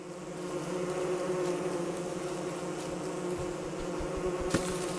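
Swarm of bees chasing a player in the survival game Don't Starve Together, a steady droning buzz holding throughout with a brief sharp click near the end.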